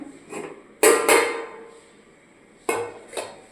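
Dishes and utensils clink and clatter while rice and food are served at lunchtime: a few sharp ceramic and metal knocks in separate clusters, close by, in a quiet room.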